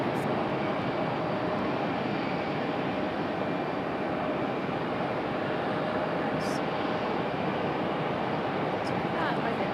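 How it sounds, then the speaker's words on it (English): Southwest Boeing 737-700 arriving at Raleigh-Durham International Airport from Baltimore, heard as a continuous, even jet roar throughout, with brief faint clicks and voices in the background. "Next arrival is Southwest 2910, a 737-700 coming in from Dewey, Baltimore,"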